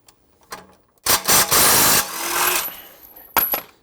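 A 17mm socket wrench loosening the bottom shock bolt on a 4x4 during a rear airbag delete install: a few light clicks, then a loud burst of rattling tool noise for about a second, a lower whirring tail, and a final short burst.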